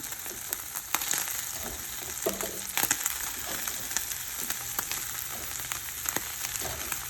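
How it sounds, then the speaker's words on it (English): Mushrooms fry in a pan, a continuous crackling sizzle scattered with small pops and light scraping from stirring, moderately quiet with no one talking. "Now I'm going to cook these mushrooms in a pan."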